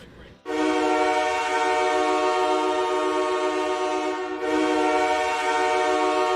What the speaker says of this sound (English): Sounds like a train horn.